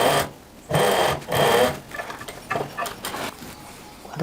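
Sewing machine stitching a classic women's shirt in loud rapid bursts, a couple of long runs followed by shorter stop-start stitches and clicks, close and alone with no voices.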